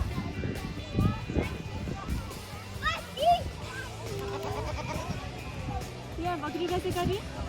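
Goats at a farm in the Amsterdam Bos bleat a few times at moderate distance, mixed with children's chatter and other visitors' voices around the pens.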